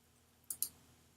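Two quick, crisp mouse clicks close together, sharp and near against a faint quiet room background.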